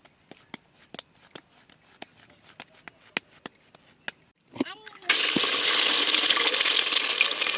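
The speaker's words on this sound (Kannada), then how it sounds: "ಮೊಟ್ಟೆ ಹುರಿದು ಮಾಡ್ತಾ ಇರೋದು ಮೊಟ್ಟೆ ಸಾಂಬಾರನ್ನ" Eggs hit hot cooking oil for egg curry: a few light clicks and taps, then a sudden loud sizzle bursts in and holds steady and bright to the end.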